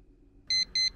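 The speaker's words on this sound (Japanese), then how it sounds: "そして炊飯器にセットして炊飯スタートです。" A rice cooker signalling the start of cooking with two short, loud, high-pitched electronic beeps in quick succession after a near-silent moment.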